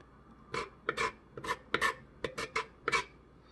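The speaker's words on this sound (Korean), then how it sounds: "긁어 가지고 제거를 하고요 그리고 한번 씻어야 돼요" Rasping scrapes of a knife or spoon against a split spoon worm (gaebul) as its dark innards are cleared out, in short irregular strokes close up with no talking.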